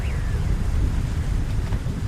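Heavy rain pouring down outside: a steady, dense wash of hiss with a low rumbling undertone, continuous and fairly loud, with no voices.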